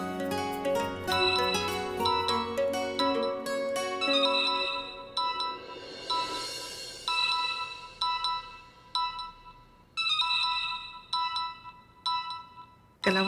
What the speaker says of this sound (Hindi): कलावती जी का फोन है